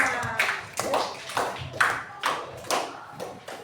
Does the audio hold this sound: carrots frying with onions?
no